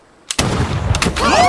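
A sharp, loud gunshot from a training rifle in an animated film, one close blast with a booming tail, followed by a couple of quieter cracks and a rising whistle-like sound.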